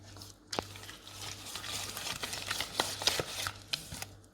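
Cookie dough of butter, sugar and a whole egg being mixed by hand in a bowl, giving a steady run of soft scraping, clicking strokes at close range with no talk.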